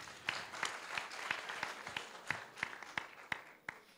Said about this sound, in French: Léandre, qu'on acclame très fort, s'il vous plaît.